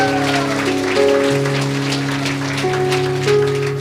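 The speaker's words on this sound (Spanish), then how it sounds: "Fuerte aplausos, Iglesia de Cristo." A church congregation applauds in a sustained, dense patter of clapping close by, while sustained organ or keyboard tones play steadily underneath.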